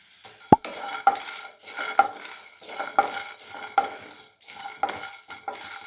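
Garlic cloves with skins on, roasting with sesame seeds in a dry pan for a carrot fry, stirred with a spoon in repeated scraping strokes roughly once a second, close and clear over a soft background sizzle.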